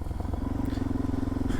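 A Suzuki DRZ 400 SM motorcycle on the move, its single-cylinder engine giving a steady, close, even drone with a faint rhythmic pulse and some light clatter, heard alone without talk.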